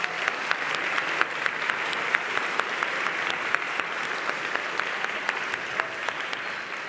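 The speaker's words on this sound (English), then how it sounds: "Let's give her a big round of applause." Sustained applause for EJ Chan at a community closing ceremony, a dense steady clapping from a crowd that carries on for several seconds with scattered sharper claps standing out, and no speech over it.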